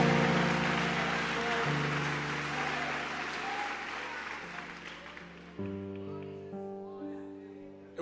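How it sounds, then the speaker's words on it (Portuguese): Crowd applause fills the clip, a dense steady clapping that fades slightly, with sustained organ-like music tones underneath and rising at the end. "Só quem pode dar um brado de glória a Deus e aplausos ao nome de Jesus."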